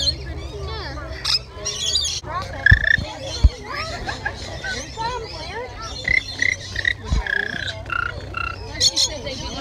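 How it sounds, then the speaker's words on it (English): Birds in a zoo bird exhibit give loud squawks, croaks and chirps in scattered bursts, with people talking nearby in the background. "we're in the bird exhibit, and a lot of people have birds on their hand"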